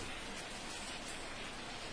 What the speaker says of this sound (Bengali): দেখো বৃষ্টিটা দেখো।